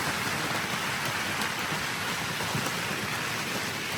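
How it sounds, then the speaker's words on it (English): Steady rain pouring down, a dense hiss of drops pattering on surfaces close by, continuous throughout. "Oh, there's the rain."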